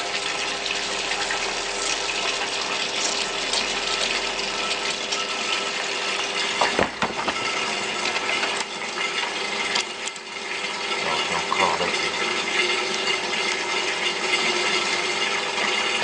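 Water rushing continuously through a test rig for measuring pressure losses once its valve is opened, a steady loud gushing hiss with brief gurgles and knocks, no talking.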